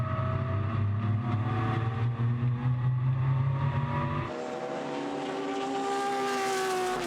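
A classic Jaguar race car engine roars at Silverstone, droning loud and steady, then dropping sharply in pitch and fading as the car passes and drifts wide, with another engine's rising whine trailing behind.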